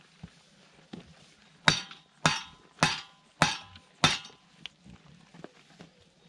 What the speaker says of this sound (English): And hammer the spear in.